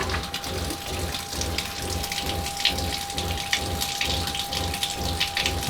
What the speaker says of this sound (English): Shower has a nice good stream.